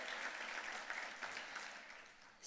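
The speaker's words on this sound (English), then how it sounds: "If we could give her a round of applause." Audience at an evening education foundation dinner applauding a local artist, a steady, dense round of clapping from a full room that holds evenly before tapering slightly at the end.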